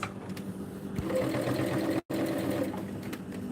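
A sewing machine stitches along a seam close by, a steady rapid whirring hum that stops abruptly for a moment, then resumes running continuously.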